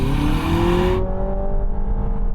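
A Honda Civic e:HEV accelerates hard in sports mode, its engine revving loudly with a rising, whirring tone that climbs steadily, then carries on as a sustained drone with a low rumble beneath.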